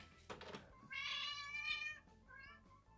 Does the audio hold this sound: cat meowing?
yes